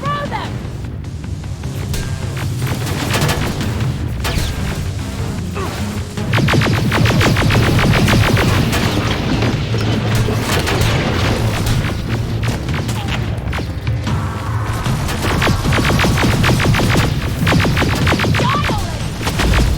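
Grenade explosions in the video game Terminator: Resistance, with repeated booms and a steady clatter of gunfire forming a dense, loud battle din, and voices shouting over it.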